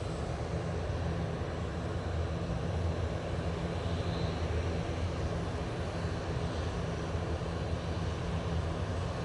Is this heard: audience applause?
no